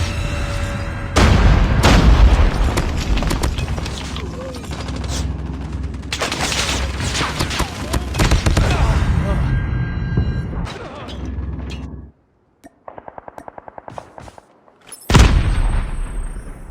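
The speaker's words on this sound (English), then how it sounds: "Predator missile inbound." Call of Duty Mobile gameplay with a predator missile strike: dense, loud booming explosions and rolling gunfire fill most of the span, then a brief lull with rapid clicking before another heavy blast near the end.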